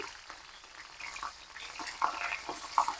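Shallots, garlic, star anise, cardamom, galangal, bruised lemongrass and bay leaves frying in hot oil for a venison white curry, giving a steady soft sizzle with a few brighter crackles and stirring noises.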